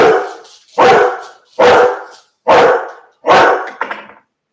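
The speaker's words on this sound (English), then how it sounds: "Oh, those dogs." Dogs bark close by, five loud separate barks at a steady pace about a second apart, with a softer yip tacked onto the last one and nothing else heard.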